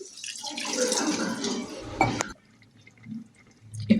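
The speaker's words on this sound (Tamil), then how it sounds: "அரை டம்ளர் தண்ணி விடலாம்." Half a tumbler of water is poured into a pan of cooking mutton keema and potatoes, a short splashing gush lasting about two seconds, followed by quiet and soft kitchen clinks.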